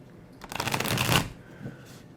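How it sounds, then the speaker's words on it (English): A deck of tarot cards is shuffled once, a short close riffle of flicking card edges, with no one speaking. "So I just shuffle until I'm kind of told not to continue"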